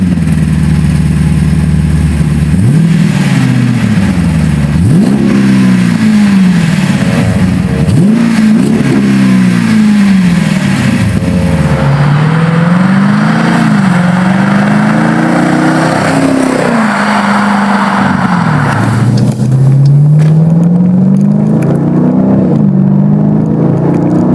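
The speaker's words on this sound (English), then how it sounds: "MagnaFlow Neo Series delivers a deep, modern growl with zero drone and a clean, performance-focused tone." Dodge Durango SRT with the 6.4 HEMI V8 and a MagnaFlow Neo exhaust, revved loud and close in a series of sharp throttle blips that climb and fall, then longer sustained revs with a deep growl.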